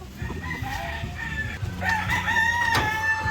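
White Kelso and Asil chickens on a poultry farm crow with repeated harmonic calls, mixed with steady clucking at close range and no talking.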